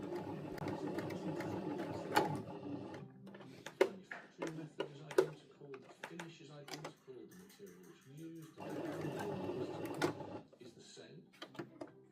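A sewing machine stitches pieces of a DIY goth belt in short mechanical bursts, alternating with stretches where a person talks over quieter handling noises.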